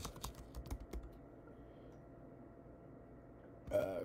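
Typing on a computer keyboard to enter a search term, heard as a quick burst of close clicking keystrokes at the start followed by a quiet background hum.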